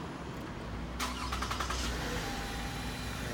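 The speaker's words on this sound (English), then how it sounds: "So let's turn her on. I'll leave the door open so you can hear the engine." A 2017 Lexus RX350 engine cranks briefly and catches, then settles into a smooth, quiet idle heard up close through an open car door.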